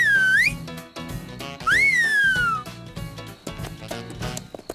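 Two long gliding whistles ring out in a Lucky Luke cartoon, the first rising sharply and the second swooping up then falling slowly, loud and clear over a busy background of music and effects.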